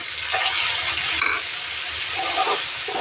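Chopped tomatoes, garlic and chillies sauté in a pan with a soft steady sizzle and occasional stirring scrapes, close by.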